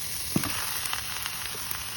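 Ground pork and onion sizzling quietly in a pan, a soft steady hiss broken by a few faint crackles and pops.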